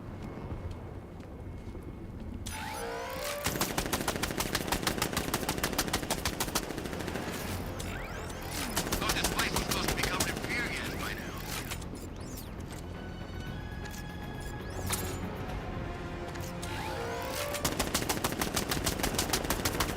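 A sentry gun in Batman: Arkham Knight fires in long, rapid automatic bursts that stop and restart several times, loud and close over a continuous layer of game ambience.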